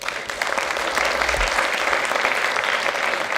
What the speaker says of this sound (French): Je voudrais qu'on l'applaudisse aussi.